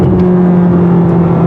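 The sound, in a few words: plug-in hybrid car accelerating hard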